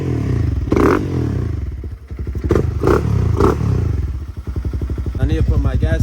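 Honda Grom with a swapped-in junk 300cc engine idling roughly, a steady close putter with irregular clattering pulses and a few blips of throttle, while a person talks over it.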